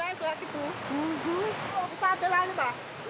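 A waterfall on a jungle river in Suriname makes a steady broadband rush for the whole moment, with high chirping calls rising over it at moments.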